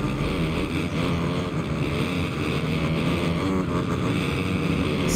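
A dirt bike engine roars steadily in Monster Energy Supercross 5, a dense, loud, unbroken drone with wind rush that stays at a constant level throughout.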